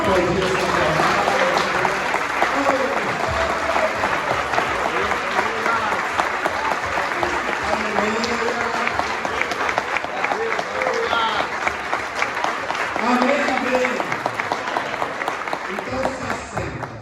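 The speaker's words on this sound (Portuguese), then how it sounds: "vamos aplaudir essa palavra" A church congregation applauds at a gospel preaching service, a long, dense wash of clapping that holds steady throughout, with voices and cheers rising faintly within it.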